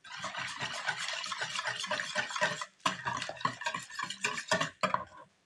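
Batter for Tatar pancakes stirred vigorously in a bowl after fresh yeast goes in, a close run of rapid rhythmic scraping and sloshing strokes with brief pauses, loud and alone.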